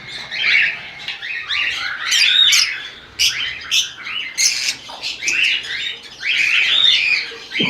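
Fischer's lovebirds in breeding cages, kept two pairs to a compartment, chirp and squawk in loud, overlapping bursts of shrill calls that continue without pause, close by.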